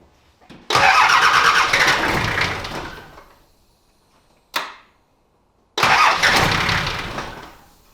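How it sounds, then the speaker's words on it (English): The diesel engine of a 35-year-old 4WD cranks over twice with a harsh whirring churn, separated by a brief click, each attempt fading out without catching. "let's see if she cranks and see if we fixed the issue"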